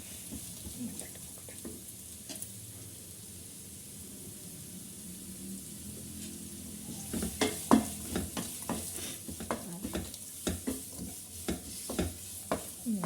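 Sliced large onions frying in a pan for crab masala: a soft, low sizzle at first, then increasingly frequent spatula scrapes and knocks against the pan in the second half.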